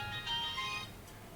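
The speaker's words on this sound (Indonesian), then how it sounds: "Oh, ada telepon." A telephone ringtone for an incoming call during a radio-style Islamic dialogue program, a faint melodic electronic tune of short stepped tones.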